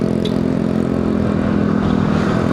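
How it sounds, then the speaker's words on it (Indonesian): A loud, steady engine drone with a low rumble, like a motorcycle exhaust running close by, constant throughout. "motor itu berisik knalpotnya"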